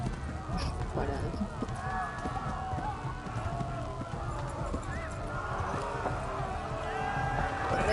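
A horse gallops in the medieval video game Kingdom Come: Deliverance, its rhythmic clip-clop hoofbeats running steadily and close throughout, mixed with game sounds and a voice over the top.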